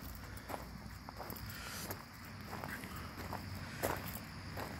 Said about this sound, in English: I'm gonna walk down this way just a little bit.